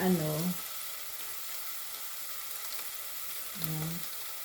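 Seasoned pork bones, peppered and salted, sauté in a pan with a steady moderate sizzle, while brief voiced sounds occur at the start and near the end.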